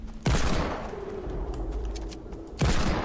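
Two loud bursts of gunfire in the video game Fortnite, one near the start and one near the end, with a quieter rumbling stretch between them.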